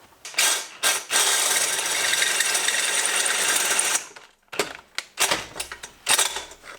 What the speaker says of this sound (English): Drill slow and stainless, and it works a lot better.